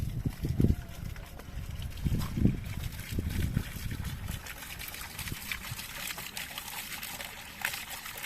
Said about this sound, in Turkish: şu musluktan su gelmesini bekliyoruz birazdan